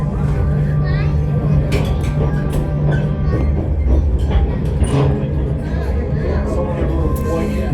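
A train rolls along rails on a ride at Gettysburg, giving a steady rumbling drone with rattles and clanks, and passengers chatter over it.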